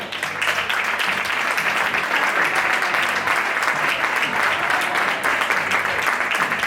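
Steady, dense applause from a crowd at a women's football all-star medal ceremony in Lugo, loud and sustained throughout without a break.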